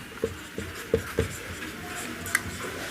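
A pen writes on paper in a maths lesson, making a few short scratchy strokes close up, quiet and intermittent, with no talking over them.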